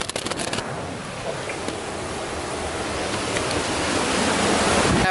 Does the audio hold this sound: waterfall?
yes